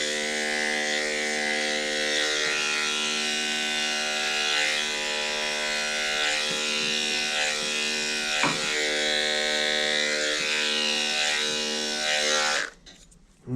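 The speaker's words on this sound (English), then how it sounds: "And do a little foot trimming." Electric clippers buzz steadily and close up while trimming a standard poodle's feet during grooming, a continuous harmonic drone with small pitch dips as the blade works, cutting off near the end.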